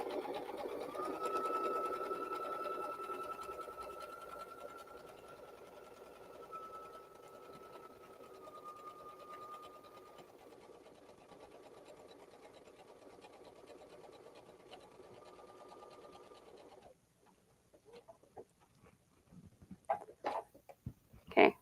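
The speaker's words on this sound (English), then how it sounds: "turn your fabric so that you can sew down the side of the scallop again" A sewing machine stitches fabric along a scallop edge with a continuous, close, steady hum for about seventeen seconds. It then stops, leaving scattered quiet clicks and handling sounds.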